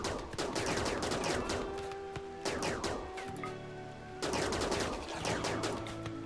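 Colonists fire guns at insect hives in RimWorld, rapid overlapping shots and bursts of gunfire at a moderate, slightly distant level, continuing in waves with short lulls.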